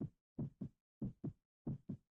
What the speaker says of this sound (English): That's why we hear a heartbeat.